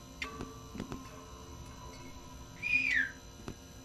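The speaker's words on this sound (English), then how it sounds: "Did you hear the whistle?" A rising and falling whistle sounds once in a Backrooms video game. It is clear but fairly faint over a quiet, humming background with a few soft ticks and taps.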